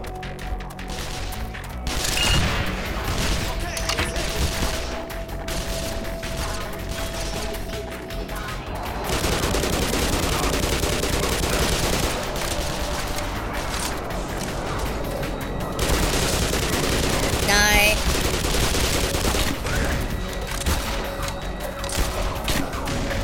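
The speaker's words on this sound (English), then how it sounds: "Rocket launcher! Rocket!" Rocket launcher fire in the video game Black Mesa, a Half-Life 1 remake: loud, dense combat noise with repeated heavy blasts and bursts of gunfire running throughout, with no break.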